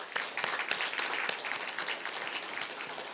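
Steady applause from a church congregation at a thanksgiving service for retiring deaconesses, many hands clapping together in a dense wash that holds evenly throughout without any voices.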